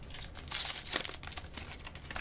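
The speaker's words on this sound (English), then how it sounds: "I'll go ahead and rip the seal on this." Seal on an Intel 330 Series 120GB SSD retail box being ripped open, a short, close crinkling and tearing of plastic and paper lasting about two seconds.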